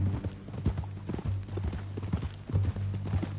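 A horse's hooves clip-clop at a walking pace in Red Dead Redemption 2, a steady close rhythm of hollow thuds continuing throughout.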